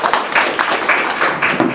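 Audience at a seminar clapping to welcome a speaker, a loud, dense burst of applause with rhythmic pulses running steadily throughout.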